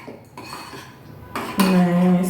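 Coleslaw ingredients with lemon juice being mixed in a bowl, with dishware and utensil clinks and scraping that grow louder and more continuous toward the end, with no voices.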